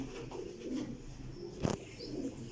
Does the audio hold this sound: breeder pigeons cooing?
yes